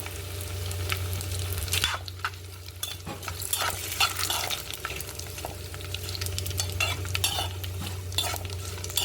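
Rava vadiyalu, semolina fryums, frying in a pan make a continuous crackling sizzle of hot oil with scraping stirring strokes and occasional clinks of a utensil throughout, close and steady.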